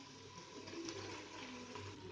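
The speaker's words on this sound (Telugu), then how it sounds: "అలాగే 6 కప్పులు వాటర్ పోసుకున్నాను" Water poured from a cup onto raw household rice in a pot for cooking, a steady, soft, close splashing and trickling that runs the whole time with no speech.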